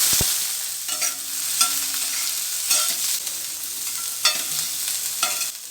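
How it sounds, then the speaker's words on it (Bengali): Cauliflower frying with onions in a pan gives a constant sizzle, broken by repeated scraping stirs of a spatula at irregular intervals, up close with no talking. "ফুলকপিটা যেহেতু একটু লাল লাল করে ভেজে নিলে খেতে ভালো লাগে"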